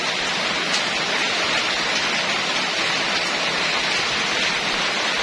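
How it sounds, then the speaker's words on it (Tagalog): Dense, steady rain roars continuously, a heavy downpour with no pauses and no voices. "oh lumakas yung ulan"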